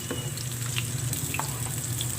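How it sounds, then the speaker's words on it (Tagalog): Sliced potatoes sauté in a hot pan with a steady, close sizzle and hiss, plus a few faint clinks of stirring over the continuous frying noise. "Igisa muna natin yung patatas."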